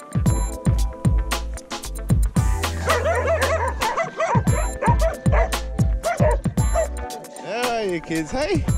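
A dog barks and yips repeatedly in short bursts, close by, with whimpering between barks while people talk over it.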